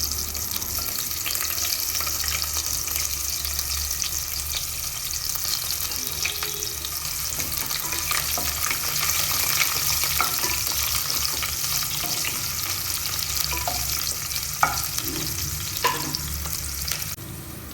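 Onions frying in oil in a kadai, a steady close sizzle with scattered stirring scrapes and clicks throughout, no voices.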